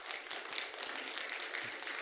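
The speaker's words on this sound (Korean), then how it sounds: "박수로 한번 환영해 주시기 바랍니다." A church congregation at a Sunday service gives a short, faint round of applause to welcome a new pianist, a soft, even patter of many hands clapping from across the room.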